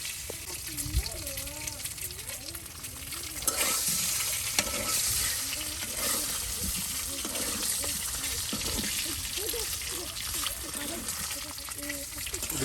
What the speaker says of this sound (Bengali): দেশি হাঁসের ডিম কিন্তু এখন ভেজে নেওয়া হচ্ছে